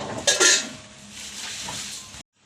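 A pot of washed lentils set down on a stove, a short clatter of metal cookware near the start followed by a softer shuffling rasp that stops abruptly, close and without talk.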